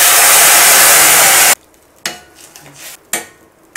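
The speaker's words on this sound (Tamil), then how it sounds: "இப்போ புளிக்கரைசல் விட்டுக்கலாம்." Tamarind extract is poured into a hot pan for a Tamil pearl millet dal, opening with a loud, steady gush and splash, then giving way to quieter, scattered sizzles and clinks of the pan.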